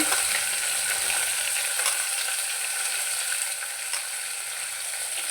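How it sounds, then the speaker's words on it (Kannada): Onions frying in hot oil in a pan for a village-style sour uppittu, a steady bright sizzle that holds evenly throughout with faint stirring clicks and no voices. "ಈರುಳ್ಳಿನ ಹಾಕ್ಕೊಂಡೆ ನಾನು ಸ್ವಲ್ಪ ಹೀಗೆ ಫ್ರೈ ಹಾಕ್ಕೊಳ್ಳೋಣ"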